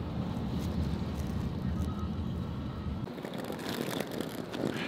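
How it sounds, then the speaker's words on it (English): Strong wind roars steadily and loudly against the microphone outdoors, a dense low rumble that drops away partway through, leaving lighter gusting hiss; no one speaks. "Oh, the wind is really insane here."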